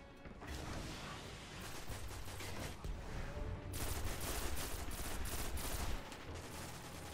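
A fusion rifle fires in a video game during a tactical team mission, with loud charged bursts of gunfire that surge, pause briefly and then resume, mixed with mechanical clatter and no talk.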